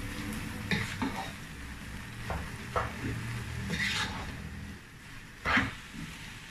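Spiced beef mince with red chilli and ground coriander being stirred in a pan, a soft frying sizzle under scattered spoon scrapes and scuffs, close and fairly quiet.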